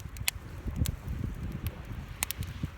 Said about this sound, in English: I know the wind's blowing.